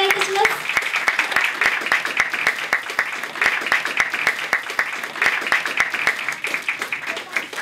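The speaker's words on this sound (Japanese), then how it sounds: "皆様、今一度温かい拍手をお願いいたします。" Audience applause at a school opening ceremony for a CBSE elementary school in Japan's Kansai region, an even, rhythmic run of claps that continues steadily, with a voice briefly heard at the start.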